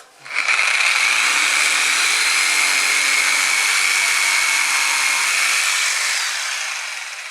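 A Triton TJS001 jigsaw saws through melamine-faced wood board with pendulum action on, a loud, steady, high buzzing cut that runs continuously for about seven seconds before easing slightly at the end.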